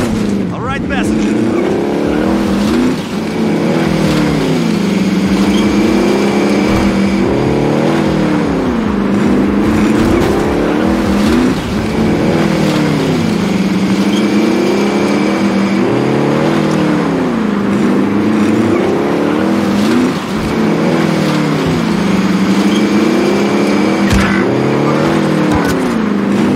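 Car engine in the Call of Duty: Warzone video game runs loud and steady throughout, rising and falling in repeated revving sweeps, with players talking over it.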